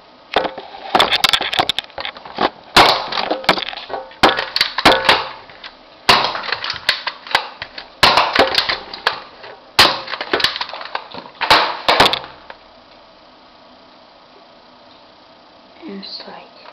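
A Nerf Maverick toy gun fires foam darts at a bedroom wall, with a series of sharp, close cracks and thumps in irregular bursts, followed by quiet near the end.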